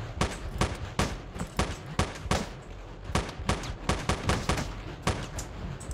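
Gunfire in the top-down video game Teleglitch: a rapid series of sharp, loud shots in uneven bursts, fired continuously for several seconds.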